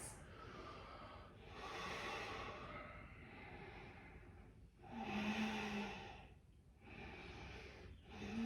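Slow, deep breathing held through a yoga pose: several long airy inhales and exhales, close and soft, in a gentle steady rhythm with no talking.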